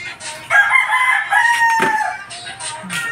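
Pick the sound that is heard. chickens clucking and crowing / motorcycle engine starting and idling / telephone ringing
chickens clucking and crowing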